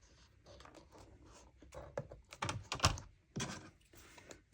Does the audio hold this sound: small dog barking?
no